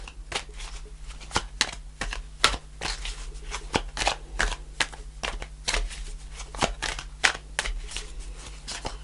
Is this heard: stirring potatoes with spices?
no